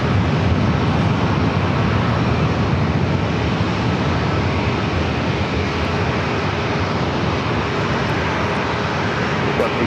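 Airliner landing at San Diego International Airport, a loud, continuous roar of jet engines filling the air steadily for the whole stretch, close and unbroken.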